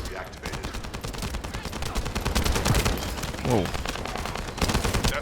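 Rapid gunfire and explosions crackle and boom through The First Descendant, a dense, loud barrage of shots with heavier blasts mixed in, while a voice briefly exclaims.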